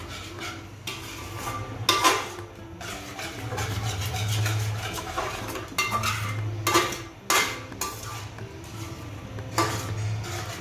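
A spoon stirs and scrapes a spice mixture for egg biryani in a metal pot, with irregular clinks and scrapes over a steady low background hum, fairly close.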